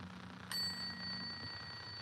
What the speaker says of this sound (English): we're going to ring the bell real fast to cleanse out the space one more again